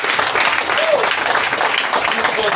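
Crowd applause at a Ugandan political rally, steady dense clapping held at an even level throughout, with voices and cheers mixed into the crowd noise.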